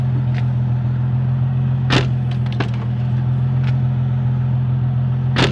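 A Nissan 350Z door slams shut with a hard, sharp bang, followed by a few lighter knocks and another slam, all over the steady low hum of an idling engine nearby.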